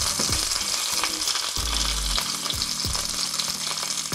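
Ahi tuna frying in a hot pan with olive oil as it is flipped, a steady loud sizzle with scraping and bumping of the fish and utensil against the pan throughout.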